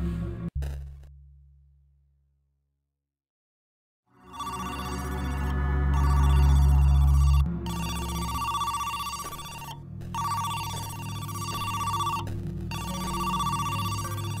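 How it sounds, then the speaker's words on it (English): A telephone rings in the mystery video game Who's Lila?, an electronic ring repeating loudly in bursts with short gaps after a quiet opening. "Leaving the bathroom, a phone starts to ring."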